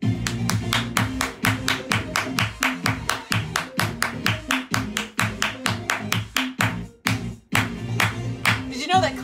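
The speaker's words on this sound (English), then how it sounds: "Did you know that clapping can shift an atmosphere? That's what I'm doing." Hands clap steadily in a fast, even rhythm of sharp, close claps, with faint background sound and a brief pause near the end.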